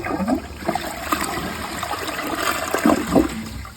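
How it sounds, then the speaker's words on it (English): A Niagara Stealth toilet flushes with a loud, close rush of swirling water that keeps churning and gurgling evenly for several seconds, with no talk over it. "Let's flush it."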